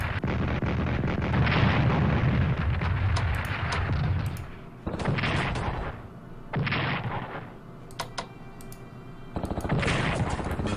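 Video game artillery fire in Strategic Command, a World War II strategy game: several loud, close booming blasts with rumbling decay, separated by short pauses.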